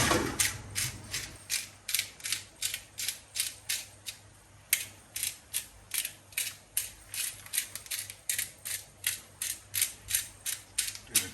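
A pepper grinder cracks fresh pepper in a condo kitchen, producing a long run of rhythmic ratcheting grinds, each twist a crisp gritty burst repeating steadily with one brief pause midway, close and alone.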